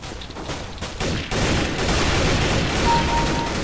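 Rapid bursts of M4A4 rifle fire in the CS:GO video game, loud and continuous over a dense game soundscape, with no voices.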